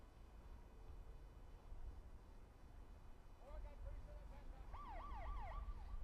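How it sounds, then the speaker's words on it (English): A halftime siren's rising and falling wail sounds over distant crowd noise at a U19 Canadian rugby championship match, starting softly and then swooping in several repeated cycles, far away and faint. "That will be the siren for halftime."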